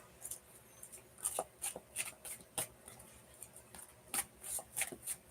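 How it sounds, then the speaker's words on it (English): Quick riffling snaps of tarot cards being shuffled close up, a series of sharp bursts separated by brief pauses, with no talking. "I'm actually going to swap halves."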